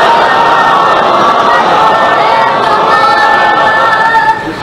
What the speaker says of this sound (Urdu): جس بندے کو امام حسین علیہ السلام کا احسان یاد ہے وہ صلوات بلند آواز سے تلاوت کرے۔